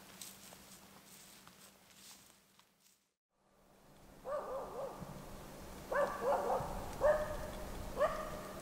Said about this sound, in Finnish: Syksyn kolmas ja viimeinen haukku.